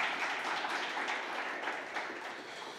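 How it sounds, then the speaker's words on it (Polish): Applause from the audience at a Norwid festival gala, a steady dense wash of clapping that holds at an even, moderate level for its whole length with no voices above it. "Jeszcze usłyszysz brawa."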